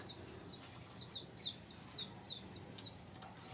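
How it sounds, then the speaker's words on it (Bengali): Chickens flap their wings and give soft, intermittent clucks in a quiet outdoor setting, faint bursts of fluttering and short calls over a low background hum. "মুরগিগুলো কি করছে এখানে"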